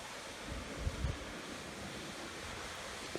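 Waterfall in Baguio City, heard as a steady, full broadband rush of falling water with some wind buffeting on the microphone, continuous and close throughout, with no voices.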